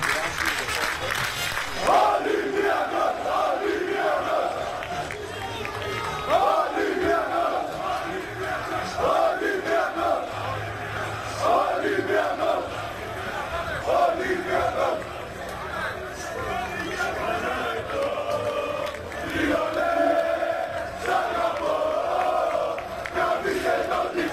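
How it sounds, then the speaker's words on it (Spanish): Stadium crowd of Olympiacos football supporters cheering and chanting the club and players' names, a massed roar rising and falling in rhythmic chant waves, with talk mixed in over it throughout. "la gente allí vitoreando el nombre del Olympiacos y de cada uno de los jugadores"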